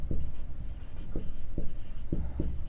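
Pen writing a math equation by hand, close scratchy strokes with several distinct tapping marks at uneven intervals, clear and fairly loud over a quiet room.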